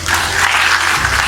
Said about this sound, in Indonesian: Kemudian Bulog berhasil serapan gabahnya, tepuk tangan ya